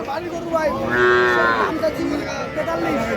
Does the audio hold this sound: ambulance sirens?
no